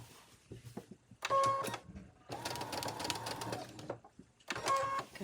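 Short bursts of a sewing machine stitching back and forth to lock stitches on a vest made from a thrifted scarf, quiet and close, with pauses between runs.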